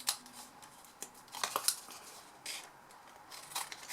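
Scissors snipping paper or card, a series of short, crisp, close cuts in uneven bursts with small pauses between them, quiet and with no talk.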